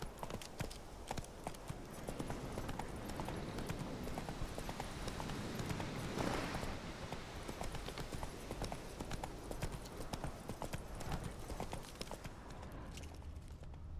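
A horse's hooves clip-clop at a steady riding pace in The Witcher 3, constant and close under game ambience, continuing for the whole stretch.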